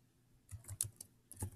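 Typing on a computer keyboard, a short run of clicky keystrokes in two bursts after a quiet start, fairly close and moderately loud, with no voices.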